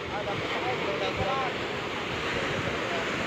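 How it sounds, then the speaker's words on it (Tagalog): Ocean waves washing at sea beside a boat being hauled in, a continuous rushing surf with wind buffeting the microphone, steady and fairly loud throughout. "May alon."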